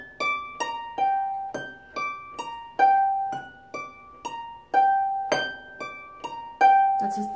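Pedal harp right hand alone playing the first measure of a piece: a quick, steady stream of bright plucked arpeggio notes, close and moderately soft, each ringing briefly over the next.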